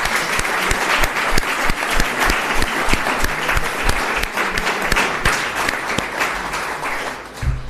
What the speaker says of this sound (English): please join me in thanking Sir Roy Good for his 50 years of service